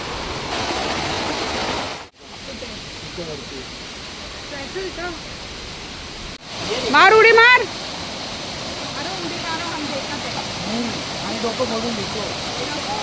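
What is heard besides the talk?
waterfall in Ghatkopar during heavy rain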